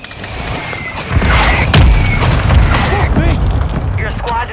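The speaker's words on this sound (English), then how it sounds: "Just a mortar." A mortar shell bursts in a video game firefight, a heavy, close boom rolling out amid clattering debris and scattered shots, with voices talking over it.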